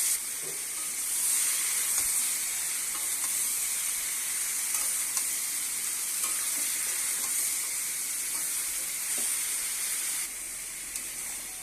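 Potato, flat beans and eggplant frying in oil over onion and tomato, a dense, loud, continuous hiss and sizzle that drops slightly near the end, with faint stirring clicks and no talk.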